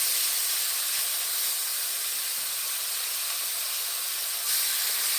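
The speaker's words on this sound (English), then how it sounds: "here I'm just letting my sauce start to simmer to get thick" Bourbon chicken sauce simmering and thickening in a pan, a steady broad hiss close by with no talk.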